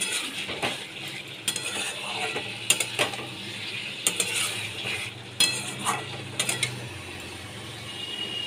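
Fried egg and potato being stir-fried in a pan, with repeated sharp scrapes and clinks of a utensil against the pan over a steady low sizzle, close and moderately loud with no talking.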